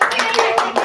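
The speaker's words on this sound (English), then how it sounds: "Yes, round of applause." Brief burst of dense applause from a conference audience, many hands clapping loudly and close together for under a second.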